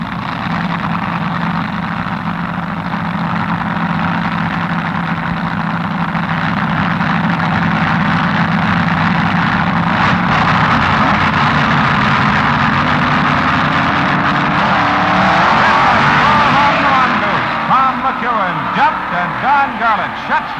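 Chrysler- and Dodge-powered 1967 NHRA US Nationals drag racers launch and roar down the strip, a loud sustained engine howl that swells and then fades, with an announcer talking over it.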